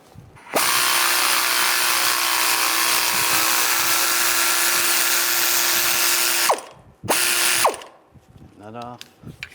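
A power tool drives an E14 socket to remove a bolt while replacing the front right CV axle on a 2013-2016 Dodge Dart 2.4L, with one long, loud, steady whirring burst of about six seconds, then a brief second burst and some fading clatter.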